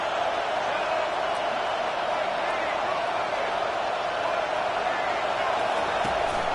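Stadium crowd in a college football video game, a dense, constant roar of many voices holding steady and loud throughout, with no clear breaks or swells.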